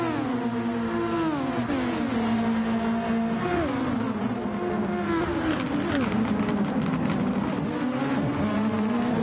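Race car engines roar continuously in a sim racing endurance event at Sardegna, several cars droning and shifting pitch together as they run close, loud and steady with no talk.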